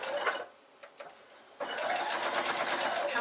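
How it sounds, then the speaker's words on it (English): A sewing machine stitches fabric onto a paper foundation from the seam allowance edge, with a couple of short, close bursts, a brief pause, then a loud, steady run of rapid stitching. "So I'm just going to stitch that one, starting at the seam allowance edge."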